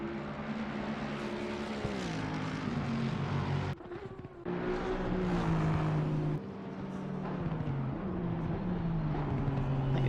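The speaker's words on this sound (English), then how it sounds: "Car number 455 and car number 456 are battling out. It's Aston Martin versus Porsche as they head down towards Sector 3." An Aston Martin and a Porsche race at Bathurst in ACM Racing, engines droning with shifting pitch as they go through the gears, briefly dropping away mid-clip before the roar returns at steady, moderate loudness.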